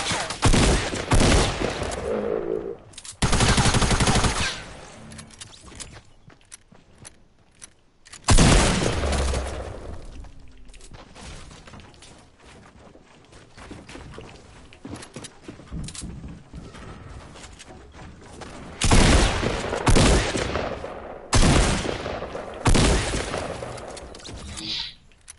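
Gunfire in a Fortnite squads match: repeated loud bursts of rapid shots in several clusters, with quieter gaps of game ambience in between. No voices break in.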